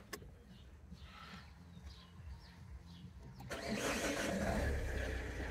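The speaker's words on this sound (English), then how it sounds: "I'm gonna turn on the engine" A vehicle engine cranks and catches after a few quiet seconds of faint background noise, then settles into a steady, fairly loud running rumble.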